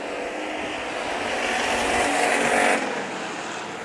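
Hobby stock race cars at Bakersfield Speedway roar past down the back straightaway, a loud broad engine drone that swells and then eases off as the pack goes by.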